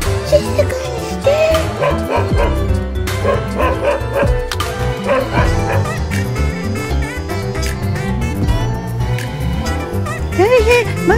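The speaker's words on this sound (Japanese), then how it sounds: "なんか犬の鳴き声しなかったか今" A small dog yaps and whimpers repeatedly through a busy toy-play scene, its barks mixed with chatter and background music.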